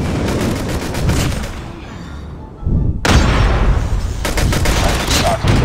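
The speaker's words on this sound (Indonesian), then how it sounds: "Ini SMG atau pistol," Rapid SMG or pistol gunfire crackles in a Call of Duty Mobile team deathmatch, with dense bursts of shots, a brief lull, then renewed heavy firing and thuds, loud and close, with a voice speaking underneath.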